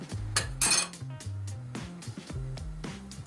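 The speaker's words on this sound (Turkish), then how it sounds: "Arkadaşlar şimdi şöyle bir genişçe bir tava aldık." A wide frying pan handled on the stove, giving a few close metallic clanks and scrapes with some ringing tones, brief and unevenly spaced, no voices.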